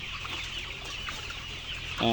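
A flock of layer hens at a poultry farm in Kushtia clucks continuously, many birds murmuring together with a few sharper calls standing out, fairly close and steady.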